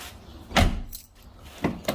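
Key turning a replaced door lock cylinder on a Mazda RX-7: a sharp mechanical clunk, then two lighter clicks, close and alone.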